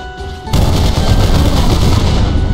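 Rapid automatic fire from an AK rifle in the video game Alien Vendetta, loud and sustained after a short lead-in, dense bursts with no talk.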